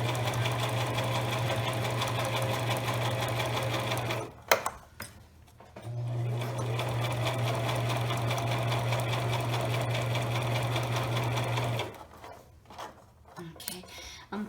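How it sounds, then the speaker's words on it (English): Sewing machine stitching fabric and a zipper for an eyeglasses pouch: two steady humming runs with a rapid even beat, broken by a short pause full of clicks and handling, then a stop followed by light rustling. "I'm going to take my time as I'm sewing"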